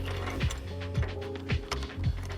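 An Allen wrench turns the screws of a tonneau cover being fitted to a Mazda B2200 pickup, giving close, evenly spaced ratcheting clicks about every half second over a low hum.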